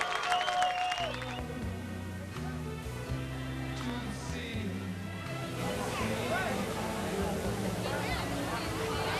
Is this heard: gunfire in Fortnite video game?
no